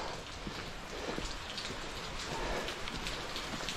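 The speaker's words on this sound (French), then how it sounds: "il pleut." Steady rain patters densely on surfaces all around on a Swiss mountain hike near the Emosson dam, a continuous hiss with scattered drops, no voices.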